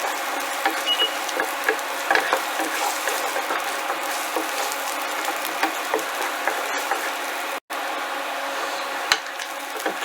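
Garlic fries in a pan while being stirred, giving a steady, close hiss of sizzling oil with scattered small scraping clicks throughout.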